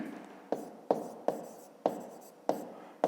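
Pen strokes on paper while a fifth-grade math exercise is worked out: short scratchy bursts of writing recur about every half second, close and fairly quiet, with no one talking over them.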